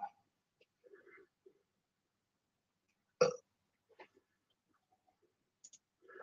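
A single loud, deep burp erupts near the middle, following a few quieter scattered sounds and faint murmurs in an otherwise quiet room, with a short voiced bit at the end.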